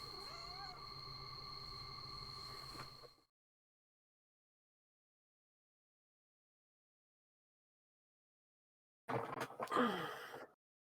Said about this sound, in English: Like, my cat wants attention, so he's on my lap right now.